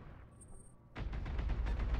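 Mech weapons fire in the BattleTech game, a quiet lull broken by a sudden loud barrage of rapid, rolling autocannon-like bursts that continue densely to the end.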